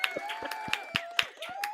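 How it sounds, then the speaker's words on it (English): Canned applause sound effect on a live stream: a rapid series of sharp, evenly spaced claps, moderately loud, mixed with voices and a sustained tonal layer. "Can I get a round of applause for making it this far?"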